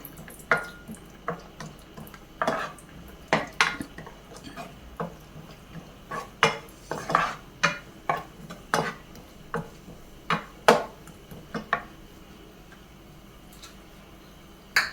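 Cashew nuts are stirred in melted ghee in a pan: a quiet, irregular series of sharp clicks and taps of the spoon against metal, roughly one every half second, with soft background hiss.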